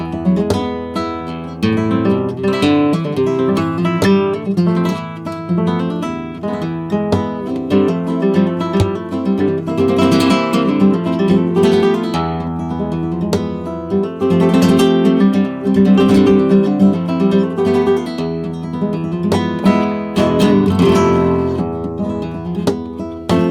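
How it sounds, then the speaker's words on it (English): Acoustic guitar captured by a stereo pair of microphones with no amplifier plays a steady, full strummed and picked passage, sounding close and continuous throughout with no voices. "So without any amp here, the guitar sounds like this"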